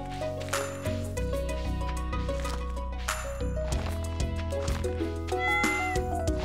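A cat in the farming video game Stardew Valley meows several times over steady, layered game music with chiming tones.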